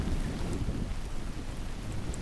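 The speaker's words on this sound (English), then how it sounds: "A little bit of thunder, a little bit of rain." Thunder and rain sound effect, a steady wash of rain with low rumbling thunder, continuous and fairly loud with no talk.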